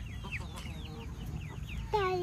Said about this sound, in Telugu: ఇక ఇది ఫస్ట్ వచ్చిన కోడి